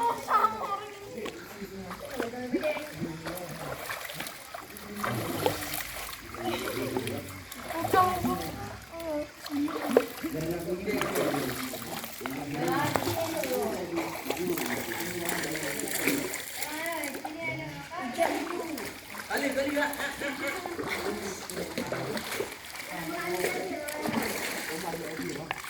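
Water splashing and pouring repeatedly at a hot spring bath, close by, with people talking over it throughout.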